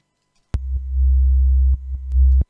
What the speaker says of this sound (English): I think I'm hearing something, and I think it's the sub.